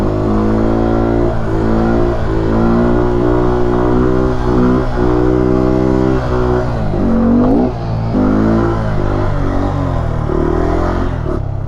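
A Honda Grom motorcycle revs hard for a wheelie, its small engine climbing and dropping in pitch through repeated throttle blips, loud and close, with a brief dip and fresh surge near the end.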